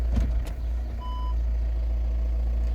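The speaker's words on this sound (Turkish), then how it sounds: "Sadece park sensörü çalışıyor." A Volkswagen Caravelle's parking sensor chimes a single short electronic beep while the van sits in park, heard over a low steady engine idle with a few soft knocks just before.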